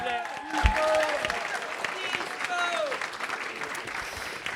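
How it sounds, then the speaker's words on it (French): Audience applause at a French blind-date show in Bordeaux, a sustained broadband clatter of clapping that swells early and holds steady. Voices and whoops are mixed into the crowd noise. "on peut les applaudir s'il vous plaît"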